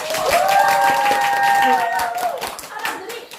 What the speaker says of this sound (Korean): 우리 예수님 오셨으니까 환영의 박수 해볼까요?